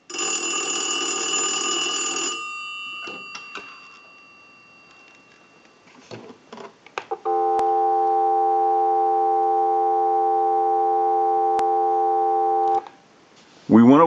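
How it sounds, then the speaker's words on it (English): After a fading Automatic Electric three-slot payphone bell ring and some clicks, a steady telephone dial tone hums for about five seconds, then cuts off abruptly. "we'll give you some dial tone"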